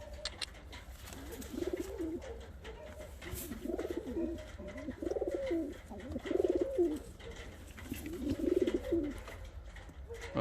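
A pair of fancy Japanese show pigeons, a male and a female, coo in repeated soft throaty phrases, close by and fairly faint, over a quiet room background.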